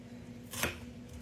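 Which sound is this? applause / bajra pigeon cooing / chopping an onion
chopping an onion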